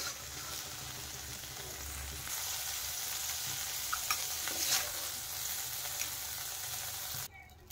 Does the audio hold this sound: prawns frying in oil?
yes